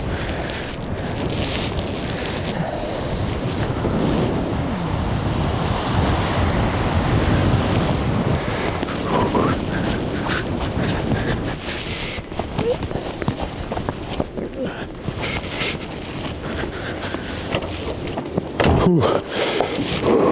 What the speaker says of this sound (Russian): Ну вы поняли, да? Ветер.